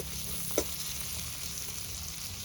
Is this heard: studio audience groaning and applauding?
no